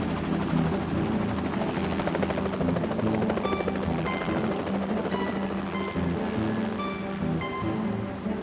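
Steady, loud helicopter noise from flight, a dense rotor thrum with engine whine that holds at an even level for the whole stretch, with no voices.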